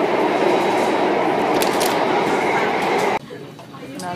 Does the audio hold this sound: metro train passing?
yes